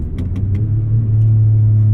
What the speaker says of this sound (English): this has all the top-end grunt that car lacks, given this is the high-strung race car engine that it is